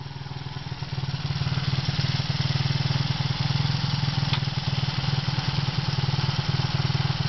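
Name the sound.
1979 Honda XL185S motorcycle engine idling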